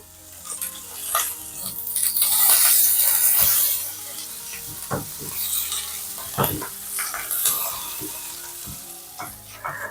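Ginger and green chilli fry in a pan while being stirred, producing a soft sizzle with scraping and clinking from the utensil. There are bursts of louder hissing and some faint background sounds.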